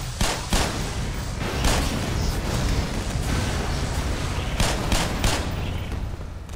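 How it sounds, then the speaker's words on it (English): A sustained barrage of booming blasts and crackling bursts, loud and close, fills the scene continuously in the video game Black Mesa, with no speech. "There was a big old explosion."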